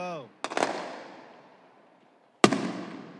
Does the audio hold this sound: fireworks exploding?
yes